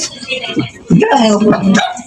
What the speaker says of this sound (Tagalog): Tapos, ang daming aso.